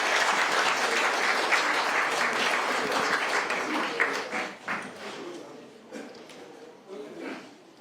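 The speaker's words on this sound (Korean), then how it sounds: "또 큰 박수로 맞이해 주시면 감사하겠습니다" Sustained applause from a seated audience at the National Assembly greets the arriving SK chairman Chey Tae-won, dense clapping for several seconds that thins into scattered claps and murmuring toward the end.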